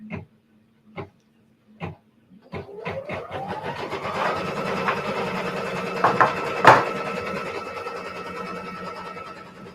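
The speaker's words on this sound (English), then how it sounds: "Now I'm going to put my foot down and stitch the tack down line" Domestic sewing machine stitching a tack down line on a quilt, with a few slow single clicks before it revs up into a steady close whirring run with small clunks.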